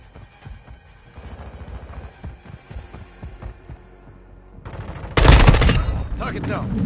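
Video game gunfire crackles in rapid shots over busy in-game noise, building to a loud, dense burst of firing near the end.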